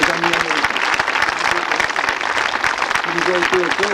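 Audience applause at an outdoor commemoration of the liberation of La Glanerie, honoring an American flag: dense, loud clapping from a crowd throughout, with a few voices mixed in.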